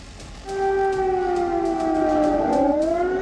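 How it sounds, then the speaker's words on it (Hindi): A warning siren before the Supertech Twin Towers demolition blast rises and holds a sustained wailing tone, with a second pitch sliding against it, loud and steady over faint rhythmic background clatter. "सायरन की आवाज गूंजी"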